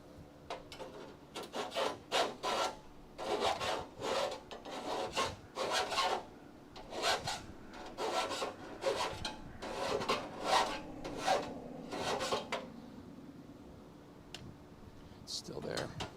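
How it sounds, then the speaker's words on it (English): A hand file rasps the burr off a welded metal frame rail patch in a rapid series of short, close strokes. A voice talks over the filing. "I'm just filing the burr off so we don't burn through that."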